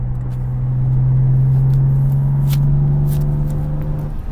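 A Nissan 350Z V6 engine revving while the car coasts through a tunnel, a loud steady low drone that rises slightly in pitch, with brief crackles over it.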